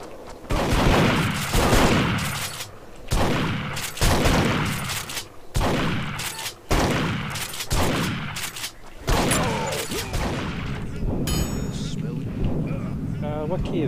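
Repeated shotgun blasts in Duke Nukem Forever multiplayer, a shotguns-only Domination match, boom in a steady rhythm of roughly one heavy shot every second or so, loud and close with short reverberant tails.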